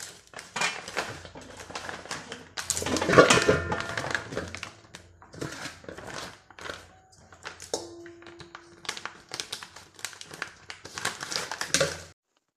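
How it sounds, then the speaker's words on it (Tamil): Plastic packets of fresh oyster mushrooms are snipped open and handled close up, with crinkling, tapping and cutting noises arriving in irregular bursts. "முதல்ல ஒவ்வொரு பாக்கெட்டாக கட் பண்ணி எடுத்துக்கலாம்"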